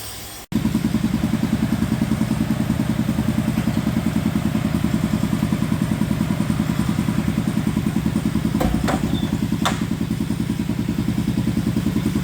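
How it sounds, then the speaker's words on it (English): A late-1800s J.F. Byers twin-cylinder steam engine from a dragline chugs steadily with a fast, even mechanical beat, running continuously, with a few brief metallic clinks near the end. "This is a late 1800s JF BYERS twin-cylinder steam engine off of a drag line."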